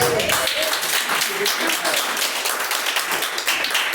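A church congregation claps in praise of God, dense sustained applause filling the room, steady and fairly loud, with voices mixed in.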